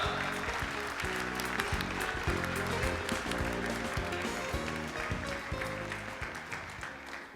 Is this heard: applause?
yes